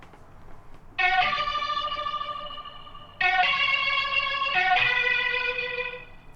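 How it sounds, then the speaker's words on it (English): Electric guitar run through a rotary effect plugin gives a watery, wobbling tone, two sustained chord phrases with a swirling shimmer, loud and close with no voices. "So this is the rotary guitar."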